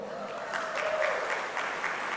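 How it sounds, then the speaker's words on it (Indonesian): Congregation clapping at a church men's gathering, a steady patter of applause swelling in the middle and then holding at a moderate level for a couple of seconds. "Tepuk tangan dulu."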